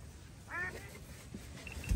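A hunter's decoy duck gives a short burst of quacks, fairly close and clear over quiet outdoor background noise, with a faint rustle afterward.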